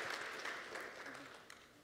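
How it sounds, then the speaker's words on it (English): An audience at a panel interview claps briefly, a soft scattered patter of hands that fades out over a couple of seconds, heard fairly faint and distant. "People are clapping because they relate with everything that you ladies have said."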